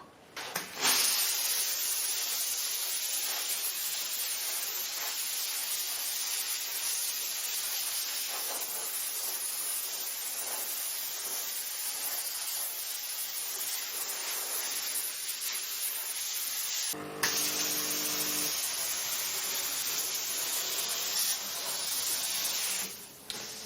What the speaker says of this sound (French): je vais passer un coup de vapeur pour faire bien